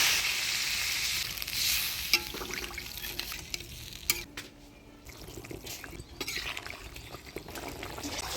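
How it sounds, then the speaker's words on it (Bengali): Water is poured into a pan of new potatoes and flat beans frying in spices for a Bengali fish curry, the loud sizzle bursting and then settling into bubbling and stirring sounds. "মশলার সাথে আলু শিমটা ভালো করে কষিয়ে নিলাম। এবার জল দিয়ে দিই।"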